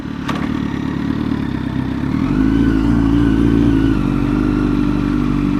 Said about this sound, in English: I just drove the 2020 ZX6R from Kawasaki